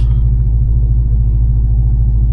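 Twin-turbocharged 5.7-liter Dodge Charger engine running on 7.5 pounds of boost, a steady, loud, deep rumble with a fast rhythmic pulsing throb held throughout, close to the car and with no talk over it.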